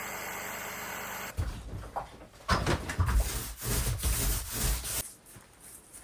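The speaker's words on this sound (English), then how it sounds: "let's jigsaw this" Jigsaw cutting through old camper material during a trashed camper restoration, a harsh, uneven rasping cut in close, loud bursts after a steady motor hum, with brief pauses between strokes.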